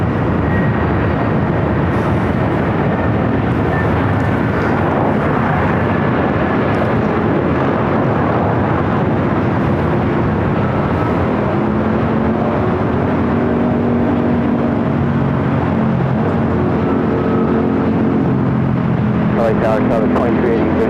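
An airliner rolls down runway 25 right at LAX, a steady broad engine roar filling the scene from start to finish while radio voices talk over it.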